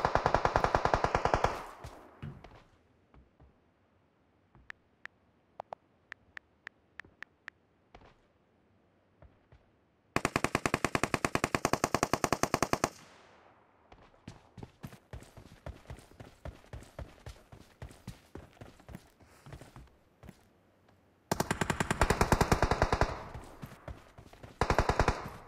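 Bursts of M16 rifle fire in PUBG Mobile, loud rapid automatic volleys alternating with quieter stretches of single shots and distant shots, close and dense at the start, middle and end.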